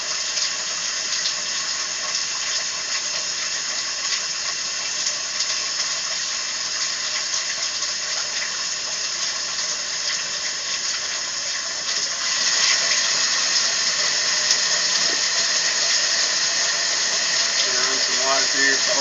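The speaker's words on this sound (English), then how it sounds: "Running the utility sink right now." Steady broadband rush of water from a utility sink tap running continuously, growing slightly louder partway through, with no voices.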